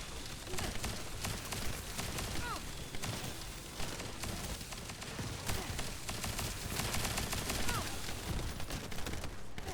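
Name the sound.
gunfire while clearing a boss room in The First Descendant video game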